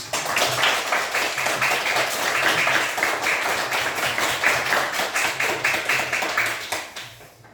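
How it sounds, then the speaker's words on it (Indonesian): Classroom applause for a student named Han, a brisk burst of many hands clapping in quick, fairly even rhythm, close and lively, gradually thinning and fading toward the end. "Tepuk tangan untuk teman Han."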